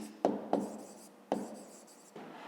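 Chalk taps and scrapes against a school board as a number is written, four short sharp strokes in quick succession, close and clear with no talking.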